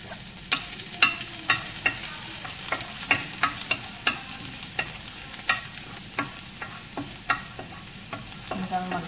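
Garlic sizzling and frying in a pan as the base for a shrimp curry, a steady crackling hiss broken by regular scraping stirs, close and loud, with no talking.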